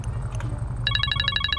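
A phone in GTA 5 ringing while a car engine rumbles underneath, one short tone first and then a rapid electronic trill of repeated bright pulses, close and clear with no voices.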